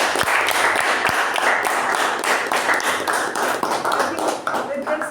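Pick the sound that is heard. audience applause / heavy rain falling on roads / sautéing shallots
audience applause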